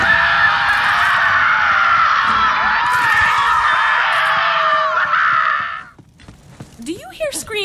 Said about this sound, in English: Do you hear screaming